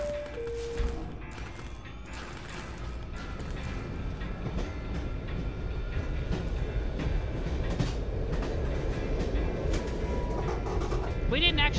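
A Fallout 3 train ride back from Adams Air Force Base, with a continuous heavy rumble of wheels on rails and mechanical rattling that builds over time, under a voice speaking.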